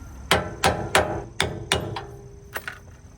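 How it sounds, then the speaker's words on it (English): Five sharp hammer strikes in a steady rhythm, metallic and close, hammering a boot into place on a V8 Toyota 4Runner, followed by a pause and a couple of lighter taps. "I'm just going to hammer it in."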